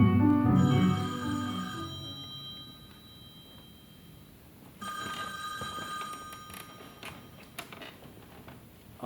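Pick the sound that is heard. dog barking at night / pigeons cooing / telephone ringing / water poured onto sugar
telephone ringing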